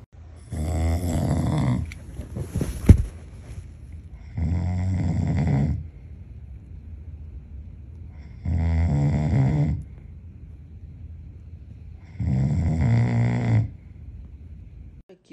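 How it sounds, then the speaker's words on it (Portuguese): Loud, close snoring repeats in four long drawn-out breaths, each lasting over a second with quiet pauses between, in a family setting at a beach São João gathering. "quem que consegue dormir com esse ronco?"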